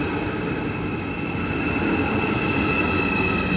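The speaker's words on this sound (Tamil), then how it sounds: "Intercity express 275. இந்த ட்ரெயின் அப்படியே வந்துட்டு ஃப்ராங்க்ஃபோர்ட் வழியாக சுவிட்சர்லாந்து போகுது." An Intercity Express train bound for Switzerland via Frankfurt rumbles steadily nearby, a continuous loud rolling roar of wheels on rail with a faint high whine, with no speech.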